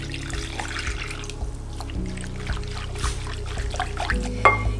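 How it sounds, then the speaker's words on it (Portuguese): Warm water trickles and pours steadily into a bowl holding yeast and sugar at the start of a homemade panettone dough, close and continuous, with a low background hum. "200 ml de água morna."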